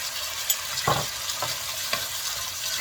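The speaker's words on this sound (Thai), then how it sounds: "ผัดข้าวด้วยนะคะ" Rice being stir-fried with a little sugar in a pan, a continuous sizzle broken by a few scraping strokes of a spatula at roughly half-second intervals, with no voices.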